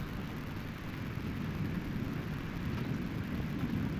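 Thunderstorm with rain and hail, a steady rushing downpour with a low, rolling rumble of thunder underneath, fairly faint and distant.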